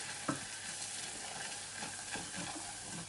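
Flour is stirred and lightly roasted in melted butter for béchamel, giving a soft, low sizzle with faint scraping strokes and a couple of small utensil knocks.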